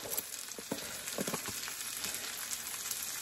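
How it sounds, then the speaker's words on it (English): Maque choux corn seasoned with red pepper and cayenne fries in a pan, giving a steady close sizzle with scattered crackles and stirring clicks throughout, no voices. "And it's just like you're letting it fry up."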